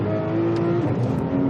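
A 2018 Porsche 911 GT3 RS driven on a racing track, its engine holding a loud steady tone that shifts pitch midway, heard close from inside with no talk.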